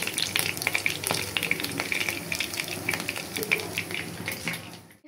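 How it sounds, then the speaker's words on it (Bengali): Chicken fries in oil left from frying onions, a close, steady sizzle with crackling pops and stirring throughout that fades out at the very end. "বেরেস্তার তেলে এখন চিকেনগুলো ভেজে নিব।"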